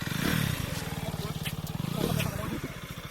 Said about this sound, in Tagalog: Yan yung motor namin na pang ilog.